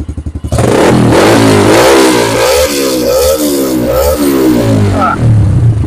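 A motorcycle with an open-pipe muffler revs loudly and close by, a harsh, throaty engine roar that rises and falls in repeated blips after a brief sputter at the start.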